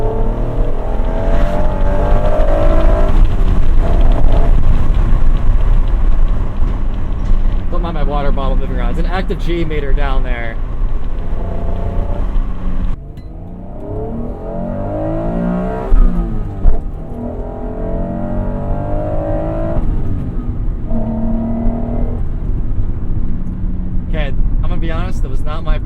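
A 1996 Acura NSX engine pulls hard with the windows down, a loud sustained drone rising through the gears with a brief dip at a shift, running under steady talk from the driver throughout.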